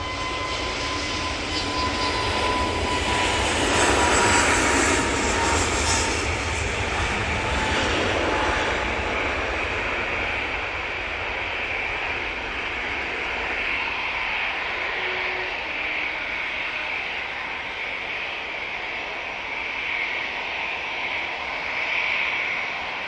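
An Aer Lingus ATR turboprop touches down on runway 23 right at Manchester Airport, its engine and propeller roar loud and steady at first, then gradually easing as it rolls out along the runway, with no voices.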